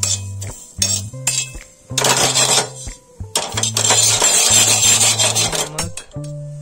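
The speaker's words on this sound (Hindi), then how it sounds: "तवे में हम इन मसालों को अच्छे से भून लेंगे" Coriander, cumin and ajwain dry roasting on a tava, heard as loud, close rasping scrapes and rubbing strokes in repeated bursts, with faint metallic clinks between them.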